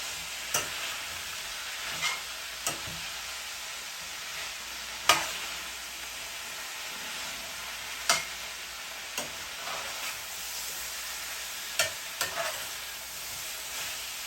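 Cabbage and sausage frying in a pan give a steady close sizzle, broken by occasional scraping knocks as a utensil stirs them, with no talking.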